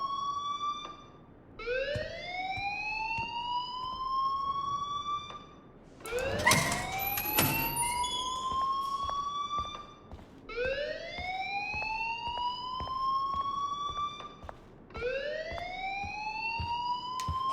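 School fire alarm in the video game Life is Strange, repeated rising electronic whoops sweeping upward in long cycles, loud and steady, with a burst of clattering noise partway through.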